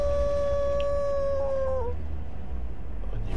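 Wolves howl for the Lycan hero in the video game Dota 2. A single long, sustained howl with harmonics holds steady, then bends downward and fades out near the two-second mark. A steady low rumble from the game continues underneath, and no one speaks.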